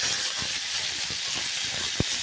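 Curry leaves sizzling in hot oil while cooking chana masala, a dense steady crackling hiss with a few soft pops, close and loud throughout.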